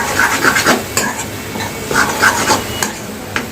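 Potato and egg curry being stirred in a pan, with a series of close scraping and clinking utensil strokes over a low sizzle and no talking.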